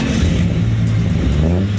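Turbocharged Ford AU Falcon drift car revving hard on a slippery surface, a loud, close engine note with wavering pitch that rises and falls continuously.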